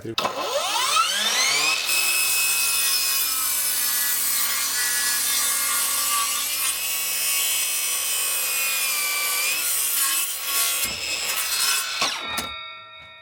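A ProCraft PGS 20 cordless miter saw cutting through two stacked wooden boards about 65 mm thick: motor whines up, then a long steady high-pitched cutting roar that dips slightly midway and winds down near the end.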